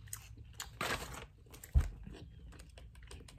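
Crunchy Popeyes fried chicken, eaten with hottie sauce, is bitten and chewed close to the mic in a few loud crisp crunches with quieter chewing between them.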